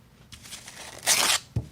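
Scrap paper towel rips apart in a short, close tearing sound that swells to a loud rasp, then ends with a soft thump.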